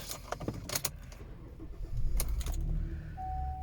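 Key-start ignition of a 2011 Cadillac CTS AWD: a few light clicks and key jingles, then the engine cranks and catches into a steady idle hum, recorded close inside the cabin with no talk.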